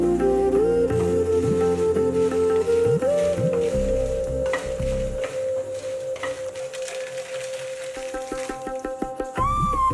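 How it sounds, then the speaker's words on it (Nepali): Dried red chillies fry in a pan for mango pickle, a soft sizzle and crackle running beneath a sustained melodic background tone, with stirring taps toward the end. "अब छुट्टै सुकेको रातो खुर्सानीलाई भुट्दैछु।"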